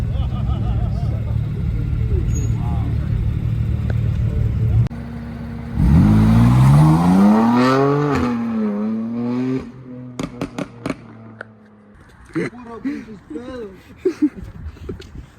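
A Dodge Hellcat launches hard, its engine roaring up through rising revs before backing off, after a lower steady rumble; loud and close, with voices and shouts around it.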